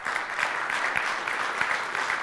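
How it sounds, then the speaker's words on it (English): A conference audience at a blockchain event in Bucharest gives a steady round of applause, dense even clapping from a crowd that holds without letup. "If we could get a large round of applause for Mr."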